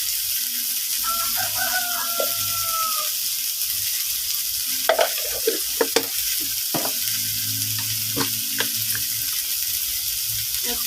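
Stems and prawns stir-frying with turmeric in a pan, a steady sizzle with scraping stir sounds and sharp clicks of a utensil, while a rooster crows faintly in the background.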